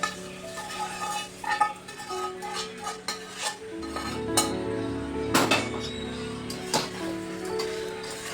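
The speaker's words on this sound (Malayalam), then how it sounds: "നന്നായി ഇളക്കി കൊടുക്കുക" Fried nethal fish being stirred into a fish pickle in a pot, with a spoon clinking and scraping against metal in an irregular rhythm, close and fairly loud, with no voices.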